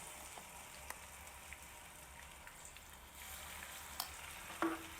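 Chicken pieces fry quietly in a pan after ginger-garlic paste is added for chicken pickle. A soft, steady crackle and sizzle runs throughout, with a few faint clicks and stirring scrapes near the end.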